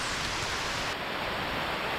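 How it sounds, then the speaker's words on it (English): Heavy rain falls on a wooded hiking trail at Asbury Woods near Walnut Creek in Erie, Pennsylvania, making a dense, steady hiss that fills the whole two seconds with no voices. "it is now raining quite hard."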